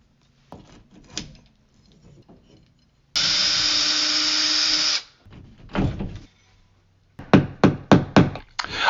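Closet demolition with hand and power tools: scattered knocks and rattles, a loud steady drill-like whine for about two seconds, then bursts of rapid, sharp banging near the end, with no talk.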